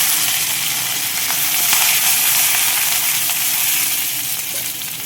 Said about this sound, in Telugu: మినపప్పు కూడా వేగుతుంది. ఇప్పుడే మనం కొంచెం కరివేపాకు కూడా వేద్దాం.